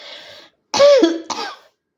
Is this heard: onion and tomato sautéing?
no